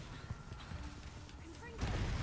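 A Bombarda spell explosion in a Hogwarts video game, a deep blast that bursts in late over a steady rumbling game soundscape with tonal chimes.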